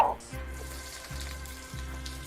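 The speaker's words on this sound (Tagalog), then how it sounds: "Ilalagay na natin tong aromatics natin, which is yung sibuyas and bawang" Chopped onion and garlic sizzle and fry in hot cooking oil, a steady close crackling hiss that continues evenly throughout with a few faint stirring knocks.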